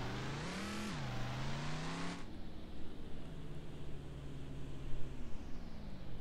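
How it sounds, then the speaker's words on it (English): Stock car truck in the video game Ranch Simulator driving steadily, its engine note rising and falling in pitch before settling into a lower, continuous drone with a rough, gritty texture. "Take our stock car truck."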